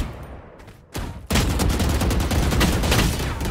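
Rapid automatic gunfire in the Valorant video game, a dense, loud burst of shots that erupts after a brief quieter lead-in and continues without pause, with no talk over it.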